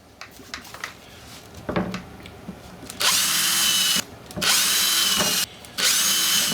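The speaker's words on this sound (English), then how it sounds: "grab yourself a piece of sacrificial, and drill your pilot holes" A power drill whirs in three sustained bursts with brief pauses between, loud and close, boring pilot holes into wood after some quieter handling noises.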